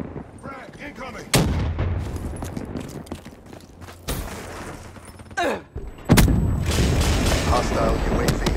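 Black Ops 3 multiplayer combat with a frag grenade explosion and rapid gunfire, several sharp loud booms and bursts of shots over a dense battle bed, with a voice calling out between blasts.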